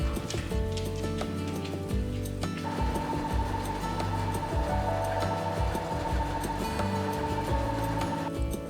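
Sewing machine ruffling brocade fabric, running with a steady fast mechanical clatter and rhythmic needle ticking that hums on without pause, close by.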